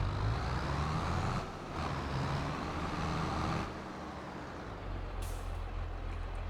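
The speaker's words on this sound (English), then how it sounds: "These trailers are always a trip to back up." A truck backing up a trailer, with a loud steady engine rumble, a couple of air-brake hisses, and a brief high beep near the end.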